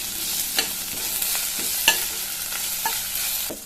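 Ginger, garlic and green chili paste fries in a pan for aloo baingan, a close, steady sizzle broken by several sharp scrapes and stirs.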